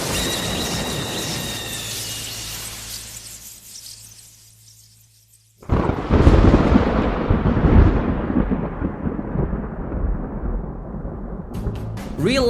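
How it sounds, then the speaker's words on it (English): Thunder rumbles loudly in a summer storm, fading out to a moment of near silence. Then a sharp, powerful crack breaks in, followed by a long, rolling roar that slowly dies away. "let's freshen things up a bit with some thunder."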